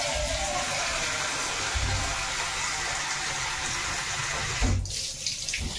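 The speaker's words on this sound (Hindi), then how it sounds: "खाली पानी दे देबा हम" Water gushes steadily from a tap into a cooking pot for an Odia cabbage curry (bandha kobi tarkari), a continuous close rushing stream with a brief clunk and splash near the end.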